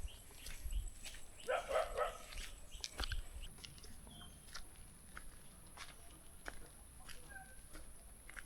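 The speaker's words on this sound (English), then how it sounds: "Listen to the sounds of nature or dogs barking" A dog gives a few short barks nearby, followed by quieter rustling and scattered faint sounds outdoors on a hiking trail to waterfalls in the Philippines.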